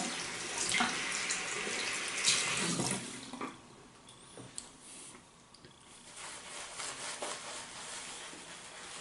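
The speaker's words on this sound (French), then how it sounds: "Je vais me rincer les mains" Tap water runs steadily into a sink while hands rinse beneath it, splashing and squishing near and fairly quiet, with the flow easing off midway before picking up again.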